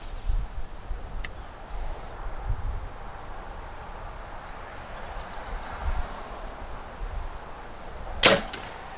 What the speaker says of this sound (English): you can't even hear it when you're shooting your bow